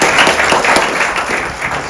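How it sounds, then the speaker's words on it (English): Steady applause from an audience at a live poetry Q&A, dense clapping sustained throughout at a fairly loud level. "Can we get another round of applause?"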